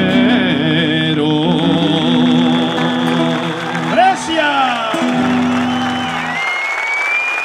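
An audience applauds a folk performer at a San Andrés show honoring bitter mate, the clapping running steadily throughout and mixed with sustained, tonal instrumental music.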